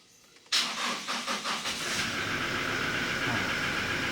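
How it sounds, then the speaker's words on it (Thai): A car engine with a worn battery in cold weather cranks with several rhythmic starter pulses, then catches and settles into a steady idle roar. "ติดนะครับ สตาร์ทติด"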